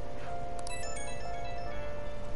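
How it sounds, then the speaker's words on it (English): Phone ringtone in the Persona 5 Royal video game: a short electronic melody of bright, sustained tones over a steady rain-like background hiss, alone with no talking. "Oh, phone's ringing."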